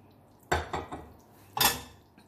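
A spoon stirring lamb liver masala with kasuri methi and garam masala in a metal pan, giving a few close clattering scrapes and knocks in two short bursts, with no talk.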